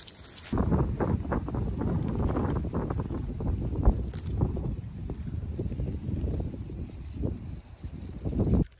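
Steady wind buffeting the microphone outdoors, a continuous low rumbling roar with gusty swells throughout.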